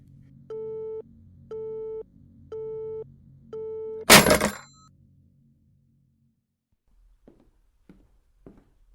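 In the police video game This is the Police, four evenly spaced telephone busy-signal beeps sound after a call ends, then a sharp crash, followed by quiet with a few faint clicks.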